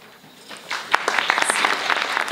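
An audience at an award ceremony breaks into applause, starting as scattered claps and quickly building into steady, fairly close clapping that continues to the end.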